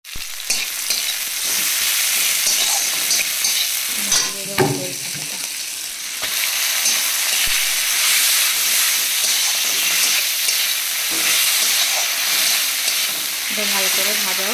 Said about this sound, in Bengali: এখানে আমার শাকটা ভাজা হয়ে যাচ্ছে